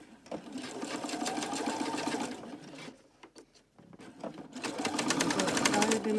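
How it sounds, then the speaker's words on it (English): A sewing machine stitches backwards using its back-stitch button, running in two loud, close, rapid mechanical bursts of about two and a half and two seconds, separated by a short pause with a few faint clicks. "I usually do forward and back, like with the back stitch button."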